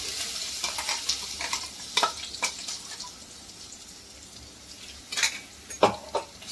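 Crushed ginger, garlic and green chili hit hot oil with cumin in a pan, giving a steady close sizzle broken by several sharp crackling bursts and spoon scrapes.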